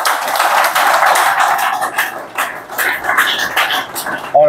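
An audience at a physiotherapy day celebration claps for senior teachers, loud irregular bursts of clapping that dip briefly midway and pick up again, with a dog barking near the end.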